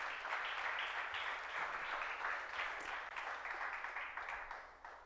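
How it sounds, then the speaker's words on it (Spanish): A church congregation applauding the Lord during a Spanish-language sermon, a continuous wash of many hands clapping at moderate distance that slowly fades toward the end. "Dale un aplauso al Señor"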